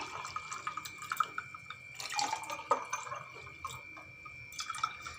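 Mint water pours into a glass holding two ice cubes, giving soft trickling and splashing with a few light clinks, fairly quiet and close.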